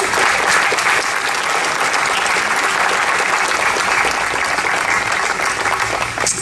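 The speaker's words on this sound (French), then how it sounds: "Et je crois qu'on peut les applaudir." A crowd at an embassy reception for the French National Day, Bastille Day 2019, claps loudly and steadily, the dense applause holding at full strength for the whole stretch with no talk over it.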